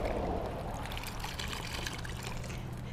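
Water trickles and drips steadily as Chilean sphagnum moss is squeezed out by hand, a soft continuous pouring and dribbling sound, close and faint, with no speech.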